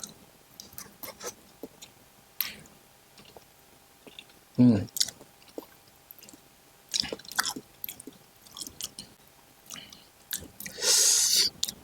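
Someone chews a jelly-like konjac snack eaten with dipping sauce: scattered soft wet clicks and squishy bites close to the mic, with a few louder bursts of handling noise and occasional quiet talk.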